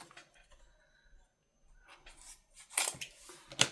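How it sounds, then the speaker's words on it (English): Scissors snip through the packaging of a paper pad, starting with faint rustles and then giving several crisp, close cuts near the end, with no talking. "Let me see if I can trim this one open."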